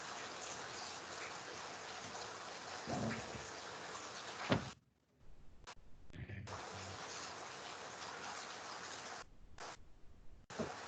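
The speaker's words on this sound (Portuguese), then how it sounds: "O barulho da chuva está incomodando para vocês?" Rain falls outside in a steady soft hiss that cuts out briefly a few times, quiet and distant, with a voice speaking over it.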